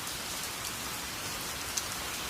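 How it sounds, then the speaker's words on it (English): Rain falling steadily against a window at night, a soft continuous hiss with scattered faint drop taps and one slightly sharper tick, evenly spread and fairly quiet. "Rain taps the window."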